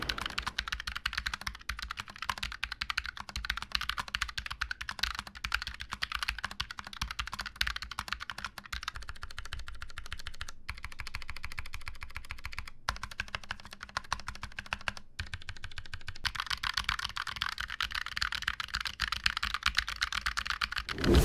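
Continuous typing on a FNATIC Streak65 LP low-profile gaming keyboard with factory-lubed stabilizers and added case dampening produces rapid, close, fairly quiet clacks with occasional heavier spacebar thumps and short pauses throughout.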